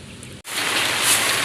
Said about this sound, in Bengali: প্রচুর বৃষ্টি হয়ে যাচ্ছে।